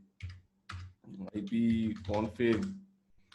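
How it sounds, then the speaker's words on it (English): Computer keyboard keys tapped while entering ipconfig at a command prompt, with clusters of typing clicks under someone speaking over them. "Let me go to my command prompt and I'll type ipconfig,"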